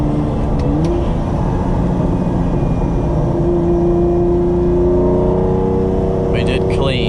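Lamborghini Diablo V12 engine heard from inside while driving, a loud steady drone and whir that slowly rises in pitch throughout, with a voice briefly audible over it.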